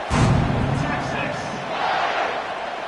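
A football stadium crowd cheering in a college football broadcast, a broad roar that swells and eases over a few seconds while a commentator talks over it.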